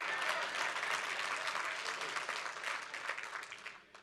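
An audience claps steadily, a dense burst of applause that holds for a few seconds, then tapers off.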